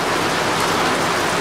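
Heavy rain pours down in a steady, dense hiss that stays loud and unbroken throughout, with no voices.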